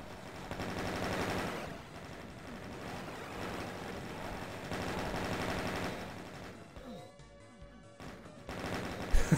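Marines fire chain guns in a video game, sustained rattling bursts of automatic fire that swell and fade over several seconds before thinning into scattered sounds near the end.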